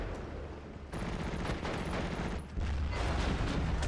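Tank shells strike and bounce off the armor of a Jumbo tank in the video game Steel Division: Normandy 44. The result is a dense, continuous barrage of loud gunfire and impacts with no pauses.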